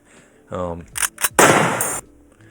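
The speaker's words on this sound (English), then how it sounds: "we have this reload sound effect and then a gunshot" A couple of metallic reload clicks, then one loud, sharp gunshot burst that rings briefly before cutting off.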